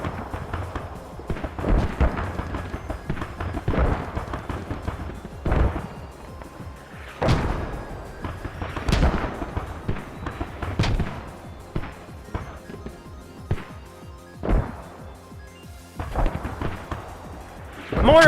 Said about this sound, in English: Mortar is being activated to the north side.